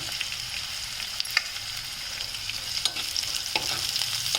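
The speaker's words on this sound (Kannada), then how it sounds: "ಇದು ಹೋಗ್ತಾ ಇರೋವಾಗಲೇ ನಾನು ಈರುಳ್ಳಿ ಹಾಕ್ತೀನಿ" Onion sizzles and fries in a pan of moong dal curry base, a steady bright crackle with occasional stirring scrapes and pops, close and continuous with no talking.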